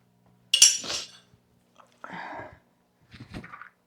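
Dirty dishes put into a kitchen sink, three separate bursts of clinking and clattering crockery and cutlery, close by in an otherwise quiet kitchen.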